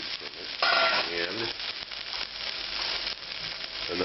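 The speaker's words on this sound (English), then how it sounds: "The meat goes back in now, along with whatever juices might have collected from it," Lamb meat and its collected juices sizzle in a pot with onions and garlic for Georgian kharcho soup, a loud crackling fry with stirring and scraping, a voice briefly heard over it.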